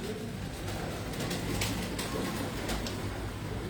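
A pigeon coos softly and faintly in a quiet setting, low repeated calls beneath a steady background hiss, with no talking.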